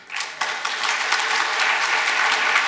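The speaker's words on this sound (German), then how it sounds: "Applaus" An audience claps at a German lecture on fire safety for the Stuttgart 21 project, a dense, steady round of applause that swells quickly after a quiet start and holds on, close and fairly loud.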